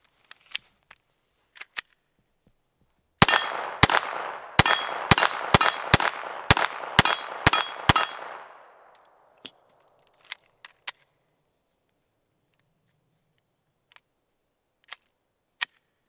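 A Glock 44 pistol fires .22 Winchester rounds in a rapid string of about nine sharp, loud cracks, each with a brief ringing tail. Isolated metallic clicks and clinks come before and after the burst.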